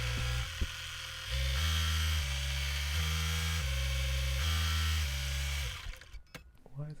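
An embroidery machine stitches quilt batting down over a placement stitch, giving a steady close mechanical whir that steps between speeds in repeated phases, then stops near the end amid handling clatter.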